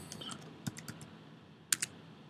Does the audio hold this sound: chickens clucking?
no